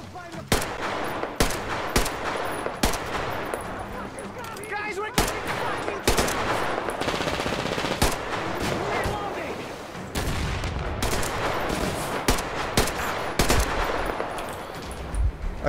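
Player gunfire in Metro Exodus, continuous automatic shooting with rapid loud cracks and heavier thumps throughout, dense and close, with voices faintly under the shots.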